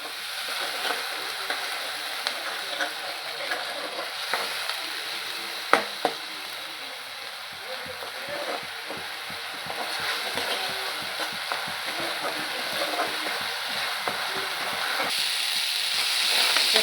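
Tomato paste frying and being stirred in a pan on a home stove, a steady bright sizzle with scattered scraping and clinking from the stirring, close and continuous with no talking.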